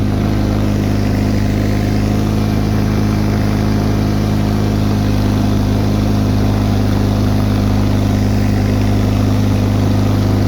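A Bolens HT-23 garden tractor engine runs hard and loud at close range, a steady droning roar with no break while a tire spins and slips on the ground.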